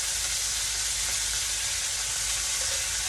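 A hamburger patty sizzles steadily on a hot grill while being flipped, a constant loud frying hiss with no pauses or talk.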